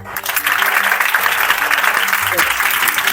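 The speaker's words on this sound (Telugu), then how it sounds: "మరి నిద్రపోతున్న వాళ్ళు క్లాప్స్ కొట్టండి, అందరూ కొడుతున్నారండి" An audience at a Telugu motivational talk claps loudly and continuously, a dense close wash of applause filling the room for a few seconds.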